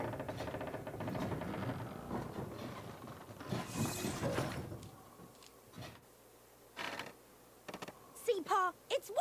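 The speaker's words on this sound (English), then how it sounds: "We can't have the mill acting on its own like this." Mill machinery in an animated western show runs on its own, a busy clatter of clanking, ratcheting and creaking parts that thins into scattered knocks and squeaks near the end, with some voice-like sounds mixed in.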